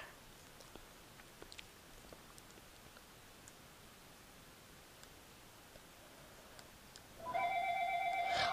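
A phone in the video game Octodad starts ringing near the end with a sudden loud electronic trill, after a long stretch of quiet background hiss broken by small clicks.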